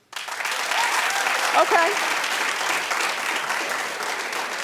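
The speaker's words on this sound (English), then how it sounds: "clap if this is a show that you'd watch" Studio audience of a daytime talk show bursting into applause, a dense sustained wash of clapping from many hands with a brief spoken word at the start.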